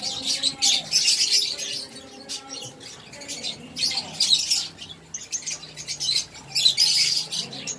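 African lovebirds kept with bantam chickens chirp in repeated bright, shrill bursts, close and fairly loud, with short pauses between the calls and a soft low coo under them.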